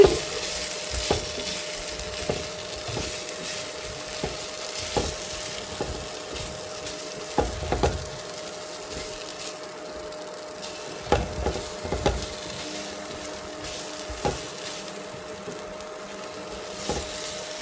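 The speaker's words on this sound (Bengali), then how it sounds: "ভাজা হইতেছে, খুব ভালো ভাজা হইতেছে" Spices sizzle and fry in a large wok (kadai), with a steady frying hiss under repeated clinks and scrapes from a stirring spoon.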